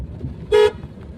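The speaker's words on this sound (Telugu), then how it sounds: "హార్న్ కొట్టండి" A car gives a single short, loud honk of its horn while driving through a narrow street, over a low background rumble.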